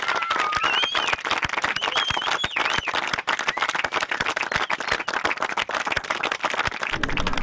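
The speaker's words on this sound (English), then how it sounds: "Give them a big round of applause." Close, steady clapping and applause from a small crowd celebrating newly crowned Australian fishing champions at Lake Awoonga, Queensland, with a few whoops rising over the continuous clapping throughout.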